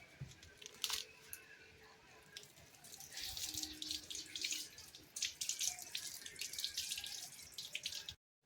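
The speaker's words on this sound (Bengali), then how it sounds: "ওখান থেকে পাম্পটা ছেড়ে হাতটা ধুয়ে নে।" Water gushes from a pump as someone washes their hands, a steady splashing rush that starts a few seconds in and stops abruptly near the end, preceded by brief faint sounds.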